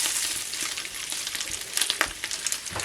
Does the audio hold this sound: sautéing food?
yes